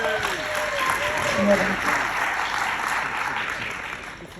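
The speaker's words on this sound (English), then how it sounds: "Give Angel a round of applause" Applause from a seminar audience, a broad steady wash of clapping that fades slightly toward the end, with a speaking voice running over it.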